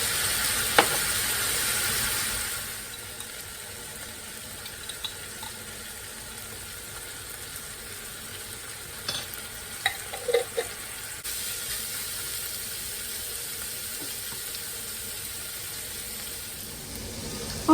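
Beef and garlic frying in a pan give a steady hiss that is loud at first and then eases to a quieter sizzle, with a few faint clinks from stirring and no voices.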